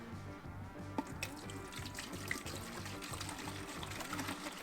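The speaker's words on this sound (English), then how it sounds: "I'm just going to pour this into my briner bucket" Apple juice pours steadily from a container into a plastic briner bucket, a continuous close splashing flow with a few brief clinks and knocks along the way.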